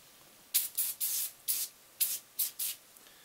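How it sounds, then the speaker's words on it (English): SofSole Instant Shoe Cleaner is sprayed onto a shoe in seven short, close hissing bursts spread over about three seconds. "And then you just spray on the shoe."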